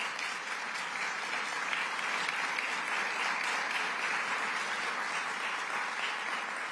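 An audience at a political rally gives sustained applause for local law enforcement, a dense, even wash of clapping that holds steady from start to finish.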